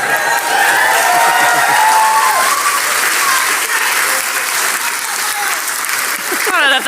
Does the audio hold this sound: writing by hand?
no